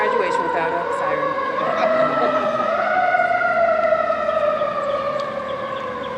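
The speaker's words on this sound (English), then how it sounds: "It's not an Exploris graduation without a siren." A wailing siren rises and falls during an outdoor 8th grade graduation ceremony, loud and sustained with a faint background murmur.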